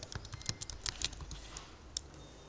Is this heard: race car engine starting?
no